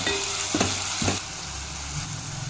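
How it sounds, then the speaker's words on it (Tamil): Onions sautéing with ginger garlic paste in an oiled pan for a brinjal side dish, a steady sizzle with a couple of scraping stirs near the start, the frying settling to a quieter crackle after about a second. "அதையும் சேர்த்துட்டு அந்த வெங்காயத்தை நல்லா ஒன்று சேர வதக்கி விடுங்க"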